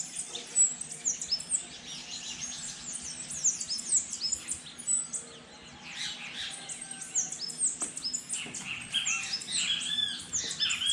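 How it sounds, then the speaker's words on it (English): Many birds chirping and singing on a quarantine morning, a busy overlapping chorus of tweets near and far that continues for the whole stretch with no talk. "there are so much birds every morning"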